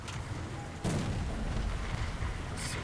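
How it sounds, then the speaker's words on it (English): Artillery shells exploding in the tank game War Thunder around a KV-1S heavy tank: a sudden heavy boom that gives way to a sustained rumbling roar, with a faint crackle at the end. "Artillery coming in on me."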